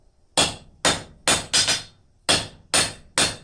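A blacksmith's hammer strikes hot steel on an anvil while forging a ram's head: eight sharp, ringing blows at a brisk, uneven rhythm, with two close together, loud and near, with no voices.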